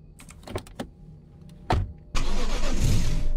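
A car in a video game about a mimic search, heard first as a few short mechanical clicks and a brief burst, then a steady loud engine and road roar that carries on to the end, with no voices.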